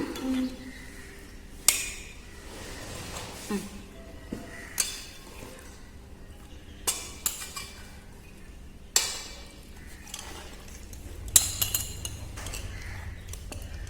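Metal utensils clink in scattered, sharp taps against a pan while sweet carrot Mysore pak batter of flour and sugar is mixed, the clinks moderately loud and irregular over a low background hum.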